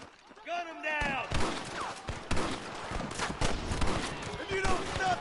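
Gunfire erupts in the Red Dead Redemption video game, a dense volley of loud overlapping shots after a brief opening voice, with shouting mixed into the shooting.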